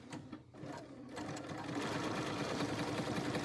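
A sewing machine runs a steady zigzag stitch along the unfinished fabric edge of a zippered box bag, a fast rhythmic mechanical whir that starts after a brief pause and continues loud and close.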